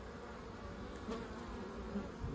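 Honeybees swarming around a beehive in spring, a dense, steady buzzing hum from many insects close by, faint but continuous with no voices.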